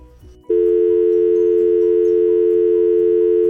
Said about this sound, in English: We're sorry, the number you have dialed is not in service at this time.